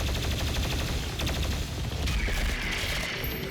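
BFG 10,000 firing in a Doom video game: dense, loud bursts of rapid gunfire-like blasts and booming impacts in continuous succession.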